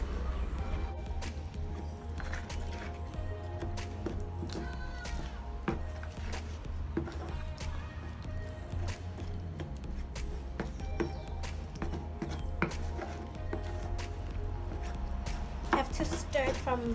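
Wet and dry cement mix is stirred for a homemade door stop, giving quiet, irregular scrapes and knocks of the tool against the container, with a faint voice at times.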